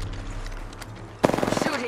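A rapid burst of automatic gunfire in a video game starts abruptly after a quieter stretch of ambient game noise and sounds a dozen or so sharp shots in quick succession, close and loud.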